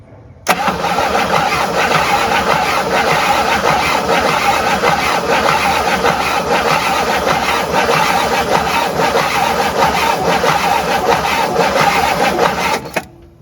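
The engine of an abandoned 1958 Super, which has no spark, is cranked for about twelve seconds without starting, making a loud, steady, rhythmic churning at close range before it stops abruptly.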